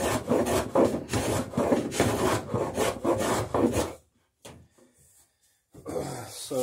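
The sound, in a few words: smoothing saw marks on a wooden boat strake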